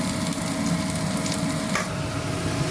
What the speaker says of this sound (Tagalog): Pero lagyan ko muna ng pork. saka bawang, kamatis, at saka ginger.